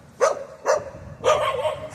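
A dog barks three times close by, two short separate woofs followed by a longer drawn-out bark, with faint background noise between them.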